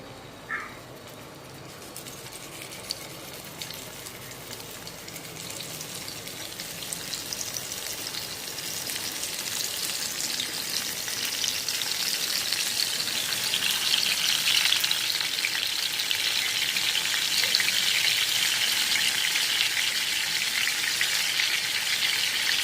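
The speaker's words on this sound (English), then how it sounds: "The oil gets heated up, and you need not want to add any mustard seeds. Now directly into the pan the brinjal goes." Brinjal (eggplant) sizzling as it fries in hot oil in a pan for a stuffed Andhra-style dish, a continuous crackling fry that grows steadily louder and denser, with no talking.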